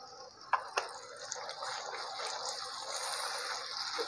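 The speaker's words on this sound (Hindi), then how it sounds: "थोड़ा थोड़ा सा पानी ऐड करते जाएंगे" Water splashes into frying chana dal masala seasoned with chicken powder, turmeric, red chili, roasted coriander and salt. Two sharp taps open it, then a steady, moderately loud hiss of liquid meeting the hot pan.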